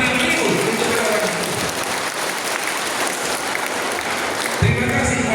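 Dense applause from a large crowd fills the whole stretch, steady and loud, with a brief swell near the end.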